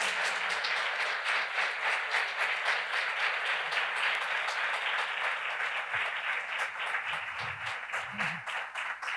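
A lecture-hall audience applauds at a keynote conference, producing a sustained, even roar of many hands clapping with a faint pulsing rhythm, occasional low murmurs and thumps underneath.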